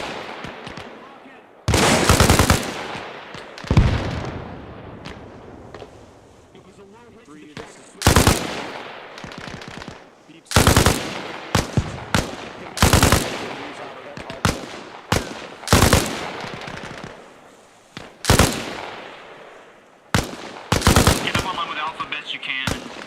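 Machine gun fire during US Army air assault platoon training, loud bursts of rapid automatic shots repeating every few seconds with gaps between, while soldiers call out to each other.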